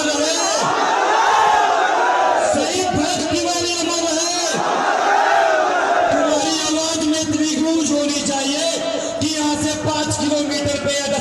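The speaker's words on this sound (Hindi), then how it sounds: "हजारों लोगों की भीड़ इस महापंचायत में थी" Dense crowd noise from thousands of people at a mahapanchayat gathering, with loud continuous shouting and overlapping voices that surge in waves throughout.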